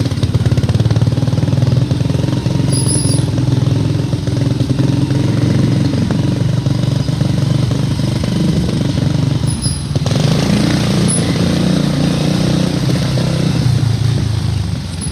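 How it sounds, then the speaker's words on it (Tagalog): Steady, dense road traffic with motorcycles and cars: a continuous loud engine rumble and drone holds for the whole stretch with no pauses, and only brief higher clatters and hisses come and go. "Dito lang banda traffic."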